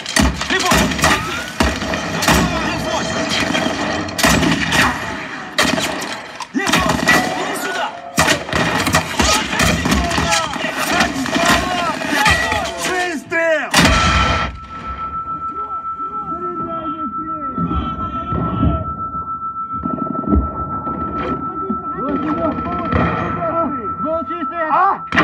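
Cannon fire in a military battle scene: a dense run of heavy booming blasts and shots for about fourteen seconds, then a steady droning engine hum as voices shout and talk over it.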